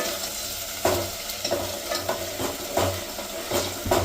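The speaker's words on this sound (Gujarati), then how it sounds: "કાંદાની ગ્રેવીને આપણે થોડીક લાલ થવા દેશું, પછી એમાં ટમેટાની ગ્રેવી નાખશું।" Onion gravy frying in a pan for chole, a steady sizzle punctuated by rhythmic stirring strokes every half second or so, close and fairly loud.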